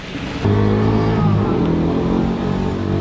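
A rented Jeep in Cozumel, Mexico drives with a steady, close engine hum that rises abruptly after a brief quieter start and then holds at an even level throughout.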